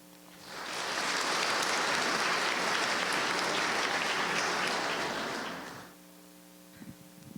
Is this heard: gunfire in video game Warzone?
no